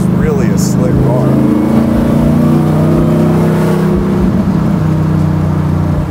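A 1969 Camaro with an LT5 engine making 800 hp revs at low RPM, a loud, steady engine drone with rising and falling harmonics close by, with a voice talking over it.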